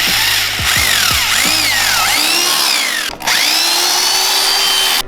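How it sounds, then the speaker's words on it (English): A power drill with a 7/32 bit whines up and down in pitch as it bores holes for a carbon lip on a lowered BMW 335i, loud and close, with speed changes and brief pauses. "Alright, we finished drilling holes."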